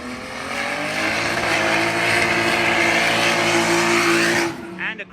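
A drift car at championship practice in Cyprus sliding under handbrake, its engine holding a loud, sustained high-revving wail with tire squeal for several seconds before cutting off sharply near the end.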